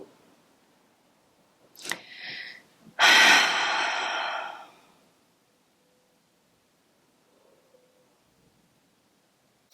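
Deep breathing during a yoga session: a sharp inhale followed by a long, loud exhale lasting about two seconds, close and clear, then quiet stillness.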